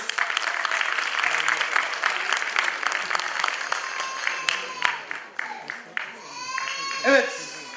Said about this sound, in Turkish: Burak Doğan hocamızı alkışlarla buraya alıyoruz.